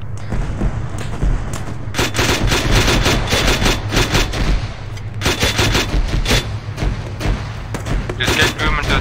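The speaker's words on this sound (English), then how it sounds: "They have a mortar." Mortar blasts and gunfire in Arma 3 on a Pacific island battlefield, with bursts of rapid shots and heavy booms recurring throughout, loud and close, while players talk over the combat.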